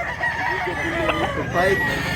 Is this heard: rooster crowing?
yes